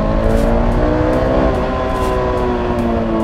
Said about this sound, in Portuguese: Agora já se ouve motor.